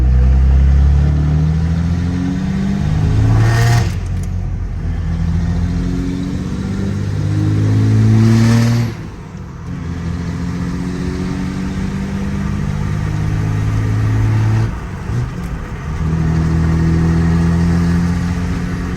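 A Cummins diesel truck engine roars loudly throughout, surging through hard revs twice before settling into a steady, heavy drone with a brief dip near the end.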